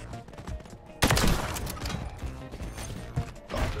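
Sniper rifle fire in a Search and Destroy match of a first-person shooter video game, one sharp loud shot followed by clattering bolt and mechanism noises and further game sounds.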